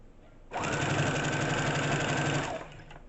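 A Brother sewing machine runs a steady continuous stitch for about two seconds, close and alone, while a hem that's six inches too long is being tailored, starting and stopping cleanly with a faint hum before and after.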